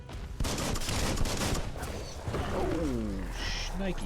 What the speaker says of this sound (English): Bullets everywhere. That's right, bullets everywhere.